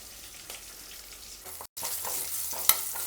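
Curry leaves, green chillies, turmeric and asafoetida sizzle in hot oil for tempering, crackling steadily with a brief dropout midway and a sharp clink near the end.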